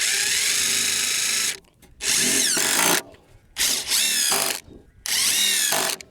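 A power drill drives 2.5-inch screws into wood in three or four loud, close bursts of about a second each, the motor whine rising as each screw bites, with short pauses between.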